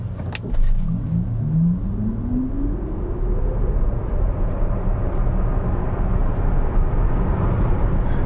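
A VW ID.7 electric car in sport mode accelerates hard, its faint electric whine climbing steadily in pitch over a loud, constant roar of road and tire noise inside the cabin.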